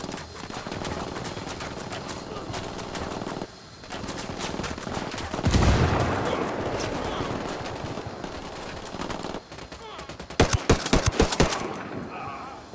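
Gunfire in the video game Ghost Recon Wildlands during a building raid: bursts of automatic fire and scattered shots over a dense game soundscape, ending in a loud cluster of sharp close shots.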